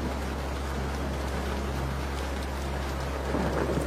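A dramatic hailstorm effect of heavy rain and rumbling thunder forms a dense, continuous roar that swells slightly toward the end, with no voices heard.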